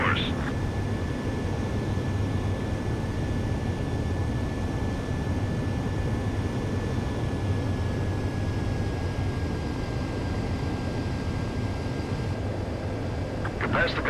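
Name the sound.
jet fighter landing approach to runway, from video game Ace Combat 7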